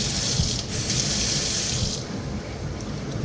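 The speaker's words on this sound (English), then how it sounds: "to change your aerator so your water is running a lot smoother, not spraying all over the place" Water runs steadily from a faucet fitted with a new aerator, a smooth continuous hiss and splash close by that softens slightly partway through.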